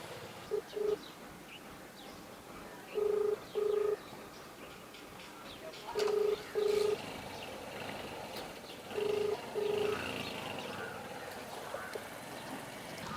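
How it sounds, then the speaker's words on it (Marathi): A telephone line rings: paired electronic beeps repeat about every three seconds over faint background noise. "लागा मला जिशान को फोन"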